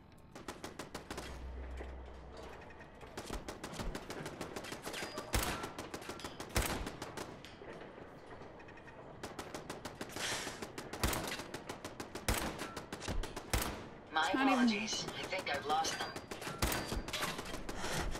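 Rapid rifle fire in Fallout 4 crackles through a long firefight, with dense bursts and repeated sharp shots at close range, some heavier blasts mixed in and brief game sounds between volleys.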